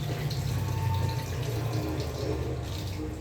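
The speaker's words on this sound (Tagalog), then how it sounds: "Laba-laba muna tayo." Laundry washed by hand in water: close, continuous sloshing and splashing with a steady watery rush throughout.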